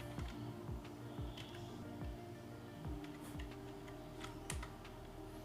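Quick, light keystrokes on a computer keyboard come in irregular bursts of taps, soft and close, with a faint background hum and no talking.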